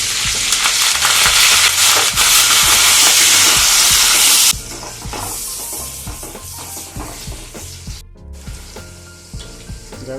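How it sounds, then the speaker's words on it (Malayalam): Ginger, garlic, shallots and green chilies fry in a pan with loud, close sizzling at first, then quieter crackling after the heat drops, with scattered stirring scrapes and knocks. "പച്ചമുളക് ഇഞ്ചി ഇതെല്ലാം മൂത്ത് വന്നിട്ടുണ്ട്"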